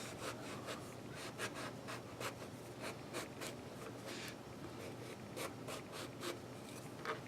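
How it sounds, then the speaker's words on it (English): A knife working through an Ichiban eggplant, a series of rhythmic scraping, rubbing strokes, close and soft, with no talk over them. "I'm going to try and cut it in half."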